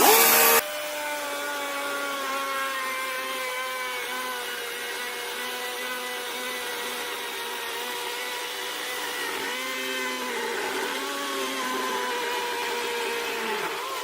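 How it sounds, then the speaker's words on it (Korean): A cordless 48V chainsaw with a 16-inch bar cuts steadily through a log: a loud, sustained whining motor drone after a brief sharp start, holding level for the whole stretch with slight pitch dips as the chain bites. "16인치 바가 이제 다 뚫고 들어가는 걸 보여드렸습니다"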